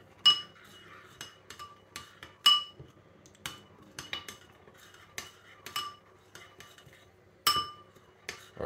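Metal utensils clink sharply against a bowl as seasoned food with salt and garlic granules is mixed, giving irregular close taps and scrapes with short gaps between them.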